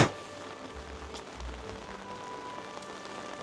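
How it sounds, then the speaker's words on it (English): Heavy rain drums on an umbrella in autumn, a dense, steady patter of drops close to the microphone, with a few low thumps and no talk over it. "hear the rain on the umbrella, but it is coming down very, very heavy now"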